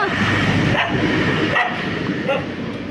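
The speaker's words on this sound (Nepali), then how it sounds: "यहाँ कुकुर बौलाइरह" A dog barks and yips a few times in short bursts over a steady noisy background, with someone talking alongside.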